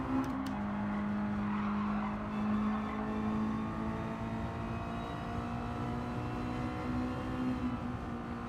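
Race car tyres skidding and squealing in Gran Turismo 7 as the car slides crossed up on dirty tyres; a sustained squeal rides over a continuous engine drone, loud and close, with no voices.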